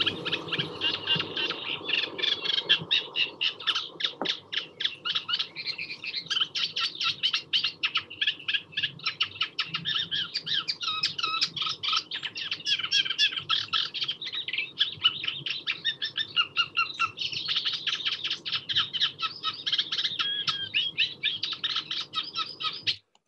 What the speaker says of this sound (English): There's always lots of squeaky toy notes in reed warbler song.